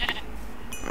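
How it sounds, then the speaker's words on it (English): A single short sheep bleat from a video game, brief and fairly faint, followed by a small clink. "Is that a sheep?"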